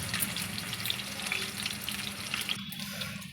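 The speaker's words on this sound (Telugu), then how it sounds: "పన్నీరు తీసుకొని ముక్కలుగా కట్ చేసుకొని వేడి నూనెలో వేసేస్తాం" Paneer pieces frying in hot oil, a steady close crackle and sizzle with fine popping spatter, running continuously and quieting slightly near the end.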